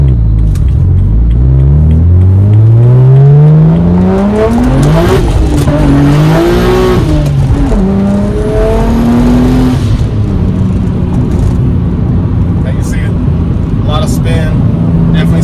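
A BMW 135i convertible with an N54 engine converted to a single turbo revs and accelerates hard with rising, sweeping tones and a whooshing, jet-like roar, loud and close throughout.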